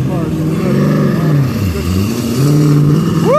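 A car engine revs hard on a dyno, its pitch rising and falling across one loud, sustained pull and then climbing steeply again at the end, with voices faintly under the roar.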